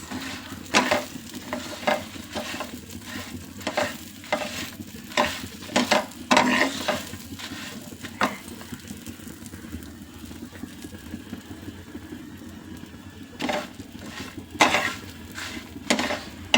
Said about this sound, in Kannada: ಹುರಿತಾ ಇದ್ದರೆ ತುಂಬ ಘಮ ಘಮ ಅಂತ ಬರ್ತಾ ಇದೆ ಸ್ಮೆಲ್ಲು. ಜೀರಿಗೆ, ಬೆಳ್ಳುಳ್ಳಿ, ಮೆಂತ್ಯ,